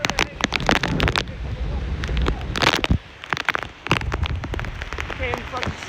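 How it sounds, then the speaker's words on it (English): Dense, loud cold rain splattering on surfaces with bursts of wind buffeting the microphone during Hurricane Ian's landfall, continuous throughout with a few close impact hits. "Cold rain, too."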